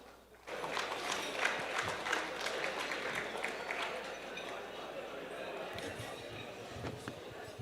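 A crowd at a Korean patriotic veterans' rally applauds for General Lee Jong-geun, a dense, sustained wash of clapping that starts abruptly and holds steady for several seconds before easing slightly, with a voice faintly mixed in.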